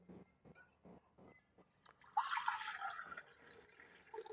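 Water is poured into a small pot of a Rukmini cooker, a trickling, splashing pour in the second half after quieter knocks and handling sounds.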